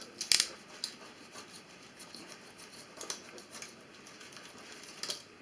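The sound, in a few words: cutting leftover tyre repair rubber with a cutter or cutting pliers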